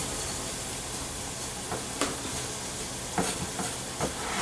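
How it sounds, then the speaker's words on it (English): A fork flaking cooked salmon in a pan alongside vegetables, soft scraping taps spaced irregularly over a gentle continuous sizzle, close up with no talk. "Now I just want to take a fork and flake this up a little bit before I mix everything in."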